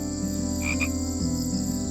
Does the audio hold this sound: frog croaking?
yes